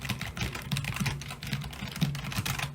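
Rapid typing on a Logitech G913 TKL mechanical keyboard with tactile switches, a steady stream of close, crisp key clicks with a few heavier thocks, no talking.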